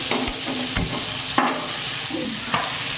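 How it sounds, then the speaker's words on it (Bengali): Potatoes fry in a pan under a steady close sizzle, with a utensil knocking and scraping the pan at irregular intervals and no one speaking. "আলুটা নাড়তে থাকবো।"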